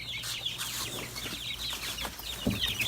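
Little farm chicks cluck and peep in short, scattered bursts at close range while being hand fed mealworms, with a steady low hum underneath and no talking.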